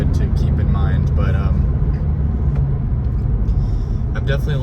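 Steady low road rumble fills a moving car's cabin, constant and close throughout with no breaks.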